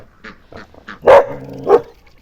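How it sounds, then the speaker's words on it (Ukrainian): A dog at a rural home gives two sharp barks amid softer whimpering yips, close and fairly loud. "А на кого, на кого ти гавкаєш?"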